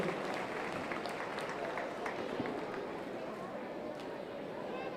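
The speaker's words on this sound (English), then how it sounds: "Give them a round of applause." An audience claps steadily at a market hog show at the Polk County Youth Fair, a dense, even patter of applause that fills the arena throughout.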